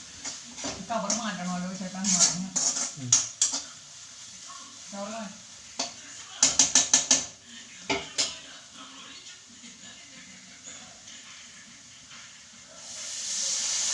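Coconut milk, second and third extracts, poured into a home chicken biryani pot with clattering spoon and pot knocks, stirring and a light sizzle, intermittent metallic clinks, moderately close.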